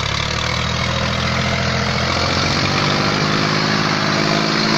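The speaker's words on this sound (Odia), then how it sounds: "ଦେଖ ପିଲାମାନେ କିପରି ଟ୍ରାକ୍ଟର ଦ୍ୱାରା ଚାଷ ହେଉଛି।" A tractor pulling a cultivator through a field runs with a loud, steady engine drone close by, its low rumble unbroken for several seconds and shifting slightly in tone midway, no voices.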